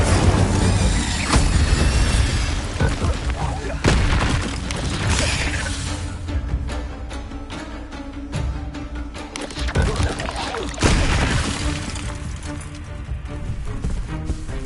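Incendio fire spells cast in combat in the video game Hogwarts Legacy, repeated bursts and crashing impacts amid busy in-game fighting, loud and layered throughout.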